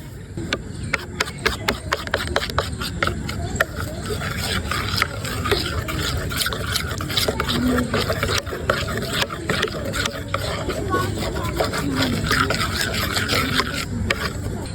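Onion pakora batter being mixed by hand in a bowl, a run of wet squelching, slapping strokes in quick rhythm, close and fairly loud, with some talking in the background.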